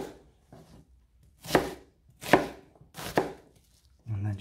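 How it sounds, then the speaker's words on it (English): A knife chops an onion on a cutting board, with three distinct sharp cuts at a slow, even pace, close and clear, and a softer tap at the end. "we are going to cut our onion lengthways"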